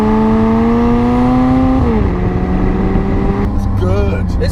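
A McLaren 600LT's exhaust booms loud and close through the back window, its deep engine note sliding downward as the revs drop, with a voice talking over it.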